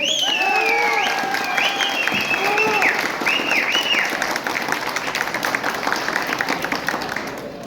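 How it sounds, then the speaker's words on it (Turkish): A wedding ceremony crowd breaks into loud, sustained applause that tapers gradually over several seconds, mixed with whistles and cheers, as voices carry over it. "Damadı daha çok alkışlıyorlar."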